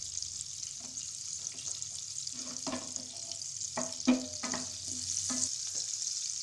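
Garlic, ginger and green chilli frying in melted butter with black cardamom, giving a soft continuous sizzle broken by scattered spoon scrapes and light clinks in the pan, close and without talking.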